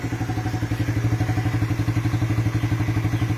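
Suzuki FU 150 motorcycle engine bored out to 199 cc, running close and loud with a fast, even pulsing beat and a mechanical clatter, no talking over it.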